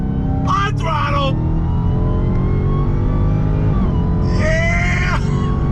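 Four-door car at full throttle on a race track, a loud, continuous engine roar with rising revs and two sharp gear-change bursts, with someone talking excitedly over it.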